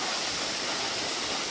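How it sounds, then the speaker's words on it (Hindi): Steady, dense rush of a waterfall at Chopta, loud and close, a continuous broadband roar with no pauses and no voices. "वाटरफॉल की आवाज़, पानी यहाँ तक आ रहा"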